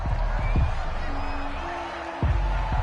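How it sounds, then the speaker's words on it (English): Home crowd at a football game roars steadily after a flagged third-down play, a broad wash of distant cheering with whoops rising and falling, while a commentator's voice runs over it throughout. "This home crowd, they're happy with that call."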